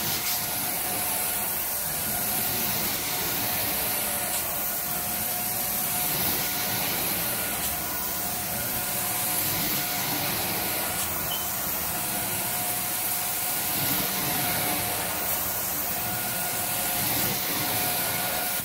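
A Workhorse hot water extraction carpet cleaning machine runs continuously with a loud, even roar and hiss. Its wand strokes over carpet make soft rhythmic swishing pulses about every three seconds.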